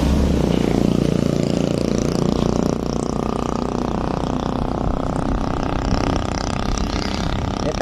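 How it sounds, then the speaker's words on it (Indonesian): A Honda engine sputters and stutters at low revs while being ridden, giving a dense, steady, close rumble mixed with wind noise and no talking. "dia berebetnya parah di RPM bawah"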